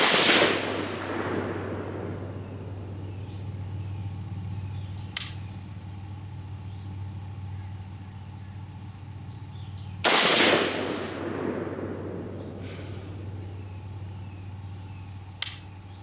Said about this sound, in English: I'm going to shoot 3 rounds at the next target.